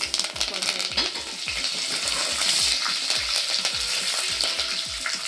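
A Byadgi chilli and curry leaves frying in about three spoons of hot oil, loud continuous sizzling with rhythmic spatula taps against the pan, no talking.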